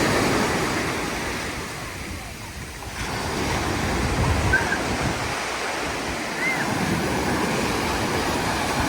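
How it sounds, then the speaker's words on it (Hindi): Surf rolls and washes continuously on a beach in Antalya, Turkey, with a broad roar of breaking water and some wind noise. No one speaks. "तुर्की अंतालिया का ये खूबसूरत बीच जिसका नाम है सेंगर बीच"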